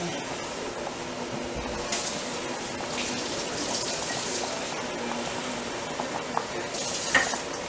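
Water poured into a hot pan of meatballs hisses and sizzles in a steady, moderately loud wash, with brief louder bursts of steam over continuous frying.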